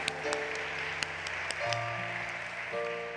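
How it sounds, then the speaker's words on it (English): A church congregation applauds during a Sunday worship service, with scattered, fairly soft clapping running beneath sustained musical tones from the sanctuary. "Let's give our clergy team a round of applause."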